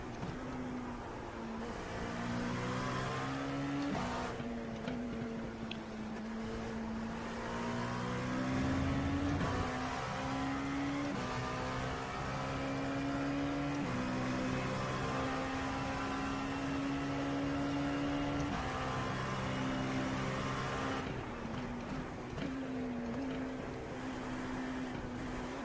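IMSA prototype race car engine at Sebring, a loud sustained high-revving drone with shifting pitch and brief gear-change dips, heard continuously from onboard without talking.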